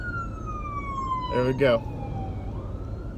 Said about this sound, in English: a siren that I can do nothing about but just stay put.